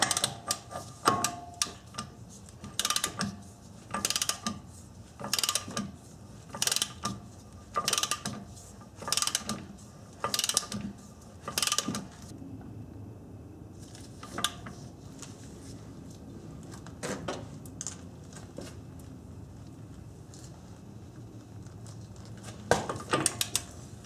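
A wrench tightens the 181 ft-lb hub fastener on a 1990-1997 Honda Accord during a brake job. Rapid ratchet clicks come in short repeated bursts, then grow quieter and sparser.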